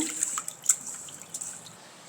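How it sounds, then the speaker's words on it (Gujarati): Soft splashing and dripping water with small irregular sloshes, close and quiet, like grains being rinsed by hand, no voices. "ચોખાને આપણે બેથી ત્રણ પાણીએ ધોઈને પાણી કાઢી લેવાનું છે"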